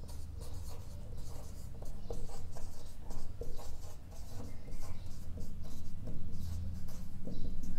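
Pen writing notes during a biology lecture on reproduction in organisms, steady continuous scratching and tapping strokes up close for the whole stretch, with no talking.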